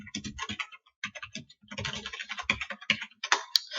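Someone types rapidly on a computer keyboard close by, with crisp uneven bursts of keystrokes, a couple of brief pauses, and a sharper key tap near the end.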